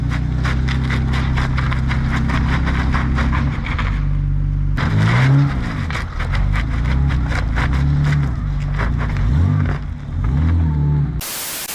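A Mercedes Sprinter van with a damaged rear axle, both rear wheels turning together, steers and drags with rhythmic scraping and juddering over a steady engine hum, the tires scrubbing in repeated bursts.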